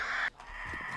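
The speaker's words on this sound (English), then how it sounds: "There's a bird there, I can see it." A single bird caw from the video game 7 Days to Die cuts off sharply early on, followed by quieter ambient game noise with a couple of faint low thumps.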